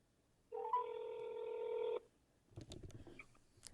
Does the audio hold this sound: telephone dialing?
yes